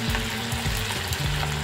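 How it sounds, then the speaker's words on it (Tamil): Chicken pieces for a lemon chicken starter deep-fry in hot oil with a steady, close, continuous sizzle and bubbling, with no voices. "இப்போது நம்ம இந்த சிக்கன் பீசஸை இதில் ஆட் பண்ணி நல்லா டீப் ஃப்ரை பண்ணி எடுத்துக்கலாம்."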